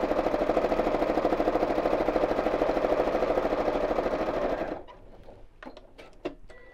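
Sewing machine stitching free-motion thread around a fabric Christmas tree appliqué: a loud, steady rapid rattle for nearly five seconds, then it stops, leaving faint clicks and small handling sounds.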